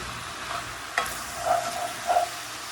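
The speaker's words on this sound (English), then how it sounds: "I'm just really trying to stir it all together." Greens cooking down in a pan give off a faint, steady sizzle while a utensil scrapes and stirs through them in a few short, soft strokes.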